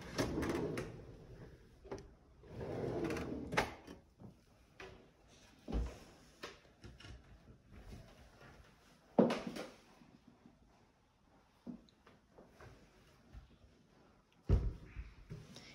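Drawers in a rented one-bedroom Lisbon apartment are pulled open and pushed shut, giving a series of separate wooden knocks and sliding thuds spaced across a quiet room, with several sharper bangs.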